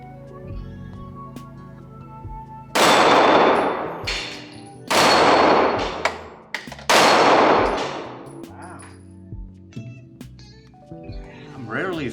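A Smith & Wesson Shield Plus pistol firing 30 Super Carry rounds at steel plates outdoors: three loud, sharp shots a couple of seconds apart, each with a ringing decay, plus fainter clanks and a few quiet sounds between them.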